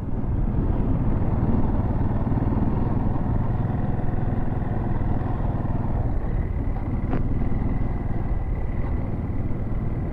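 A steady motorcycle engine drones throughout, loud and continuous, with no talking, on a creek ride.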